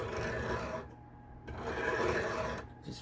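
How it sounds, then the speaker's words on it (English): Metal guitar ring pressed against a belt sander in a workshop, a steady close rasping grind in two long passes with a brief lift in between. "then I'm just gonna rub it on my high dollar belt sander"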